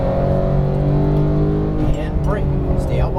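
A Porsche 911 GT3 (991) accelerates on a race track during a high-performance driving session, its engine note rising steadily and loud from inside the car, with a driving instructor talking over it.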